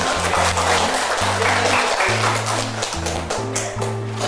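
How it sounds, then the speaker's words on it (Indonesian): Children in an elementary classroom clap together in a busy patter, with a steady low hum and tonal background sound running underneath. "tepuk tangan untuk Nabila dan Zen"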